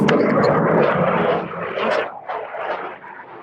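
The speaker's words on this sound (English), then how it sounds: "during our interview we heard what seemed to be a Ukrainian jet taking off" A Ukrainian military jet taking off, a loud, broad roar that holds strong and then wavers and begins to fade.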